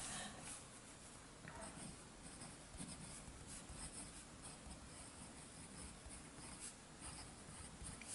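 A steel medium nib on a Cross ATX pen scratches across color copy paper in a steady, close, continuous rasp, with slight rises and falls in pressure throughout.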